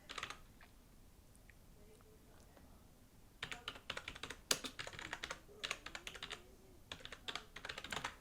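Quiet computer keyboard typing a traceroute command in the Windows command prompt, a faint hush at first, then bursts of rapid close key clicks with short pauses between them.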